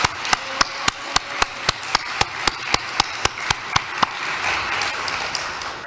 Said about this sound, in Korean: 뜨거운 감사와 영광의 박수를 올려주시기 바랍니다